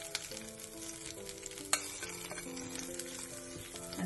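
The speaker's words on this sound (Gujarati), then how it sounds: "હવે આપણે આ વઘાર આપણો રેડી છે જે આપણે ચટણીમાં નાખી દઈશું" Hot tempering oil with red chilli powder sizzles vigorously as it is poured into chutney for uttapam, a continuous crackling fry with a sharp clink partway through and no talk.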